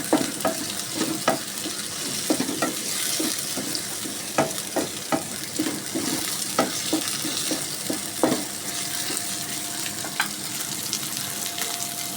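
Shrimp frying in a pan, a continuous close hiss of hot oil punctuated by regular scrapes and taps of a spatula stirring, with no talking.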